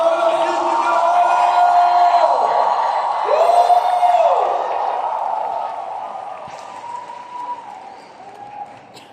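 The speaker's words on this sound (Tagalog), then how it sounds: "Humihina ang palakpak natin" A large rally crowd at a party-list gathering applauds and cheers for Pastor Apollo C. Quiboloy, with loud sustained clapping and shouts that swell, then fade gradually, while a voice calls out over the noise.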